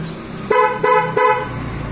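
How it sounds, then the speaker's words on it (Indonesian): A Wuling Almaz car horn gives three short, evenly spaced toots as a key-left-inside warning while the car is being locked, close and clear over a low background hum. "Jadi akan berbunyi klakson 3 kali, kemudian lampu sein berkedip 3 kali"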